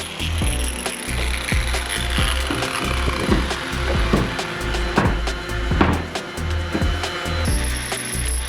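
Wooden jaws for a sailing boat over 80 feet long are sanded by power tool, giving a steady abrasive grinding with repeated scraping strokes and knocks close by, and no talk.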